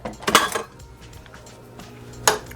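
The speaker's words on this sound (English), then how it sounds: "Let's see if we can get some of this juice from the bottom. Let's get a better spoon than that." A spoon clinks and scrapes against a dish of candied yams while scooping juice from the bottom, two short bursts of clatter around a quieter stretch.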